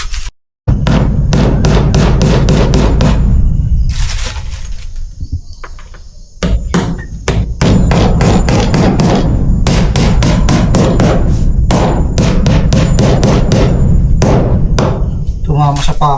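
Hammer blows drive nails into the wall of a native chicken house on a farm, landing in quick rhythmic bursts of sharp, loud strikes with a brief pause partway through and a voice heard at moments.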